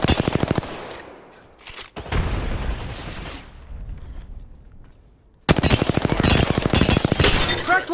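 A frag grenade goes off in the battle-royale shooter Apex Legends: a heavy, rumbling blast that rolls on for several seconds, framed by bursts of rapid gunfire before and after.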